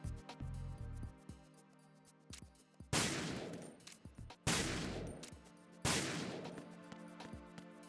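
Gunfire shooting fruit in Metal Gear Solid 2: Sons of Liberty, several sharp, loud shots with ringing decays over a backdrop of steady game tones and light clicks, without any talk.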